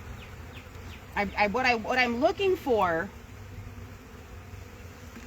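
Honey bees buzz steadily around a hive that robber bees are raiding after winter, a soft, continuous drone that goes on under a man's close speech and remains after he stops.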